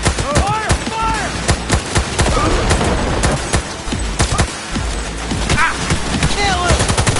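Rapid bursts of automatic gunfire and single shots in the video game Cyberpunk, loud and close, with shouted voices over the shooting.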